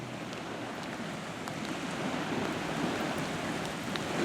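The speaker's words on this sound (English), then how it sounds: "And starting to rain a little heavier now." Rain falls steadily at a beach on Bygdøy, a constant close hiss of drops with occasional sharper taps, growing a little heavier toward the end, with no voices.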